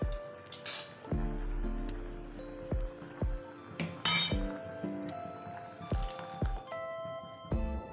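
Drumstick sambar stirred in a pot with a metal spoon as cooked toor dal is added, giving repeated close clinks and scrapes against the vessel with soft wet squelches between them.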